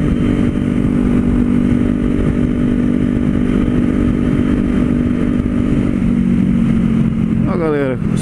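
A Kawasaki Z400 motorcycle engine runs loud and steady close by on a highway, its tone shifting near the end with a brief rising whine.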